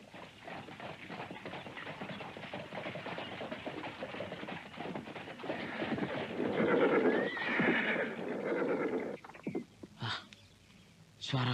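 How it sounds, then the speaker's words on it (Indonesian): Rhythmic clip-clop of hooves approaches as a horse-drawn carriage arrives outside, growing louder, followed by a horse's whinny near the end. "Suara kereta kuda di luar."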